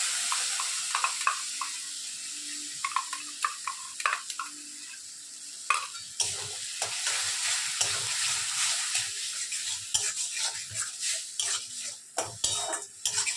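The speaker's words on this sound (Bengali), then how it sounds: "এবারে আমি চিংড়ি মাছ আর রসুনের পেস্টটা এর মধ্যে দিয়ে দিচ্ছি।" Prawns and garlic paste fry in a pan with a steady sizzle, broken by repeated scrapes and knocks of a spoon stirring against the metal, all close up with no talk.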